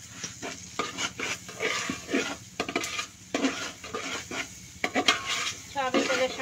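Rice frying in ghee mixed with soybean oil for morog polao, stirred in a pot with repeated close metal scrapes and clinks of a spoon against the pan over a faint sizzle.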